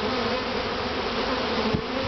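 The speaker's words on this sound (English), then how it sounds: "Lots of bees." Honey bees at an open top bar hive produce a steady, close, continuous buzzing drone throughout, with a slight bump near the end and no voices.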